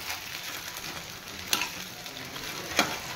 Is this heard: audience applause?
no